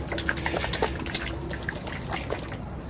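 Engine oil additive glugs and trickles as it is poured into an Audi RS7 engine, with small irregular drips and splashes, quiet and close.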